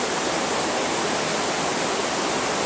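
A mountain stream rushes steadily while pieces of a gold trap are washed off in it, a constant broadband wash of flowing water with no talk.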